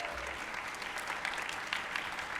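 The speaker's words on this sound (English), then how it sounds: "If you could please keep your applause going" A large crowd applauds steadily for daffodil princesses at a city awards ceremony, a dense, even wash of many hands clapping close and loud with no break.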